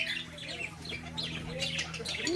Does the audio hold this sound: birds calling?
yes